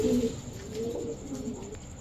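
Tiger racer pigeons coo softly, a few low throaty calls repeating over a faint background hum.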